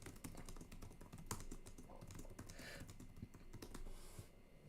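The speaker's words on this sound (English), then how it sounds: "I gotta type it in." Rapid, uneven computer keyboard typing, close and fairly quiet, with clustered keystrokes and short pauses and no talking.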